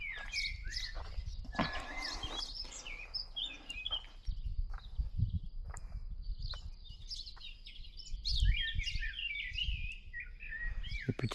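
Small birds chirp and tweet in quick, bright bursts throughout, fairly close, over a low rumbling outdoor background, with no talking.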